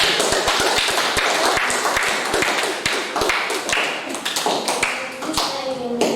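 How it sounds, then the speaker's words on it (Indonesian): A group claps for two presenters at an Indonesian teacher-training session, with sharp, uneven individual claps and thuds close to the microphone rather than a full roar, running steadily throughout. "Tepuk tangan untuk mereka berdua."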